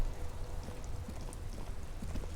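Steady in-game rainfall during a traffic jam patters on surfaces with a soft, continuous hiss and scattered light drops throughout, in the video game Disco Elysium.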